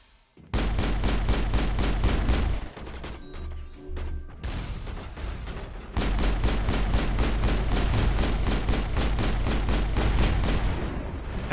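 Rapid, dense bursts of automatic gunfire from the game Mass Effect, loud and close, with a brief pause midway before another long sustained volley.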